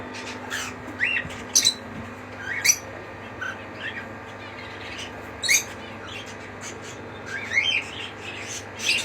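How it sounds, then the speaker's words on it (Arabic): Cockatiels and Australian finches chirp in a busy breeding aviary, scattered bright tweets and short squawks popping up in small bursts over a steady low background hum, with no talking. "طبعا معانا كل ده عصافير استرالي شغاله"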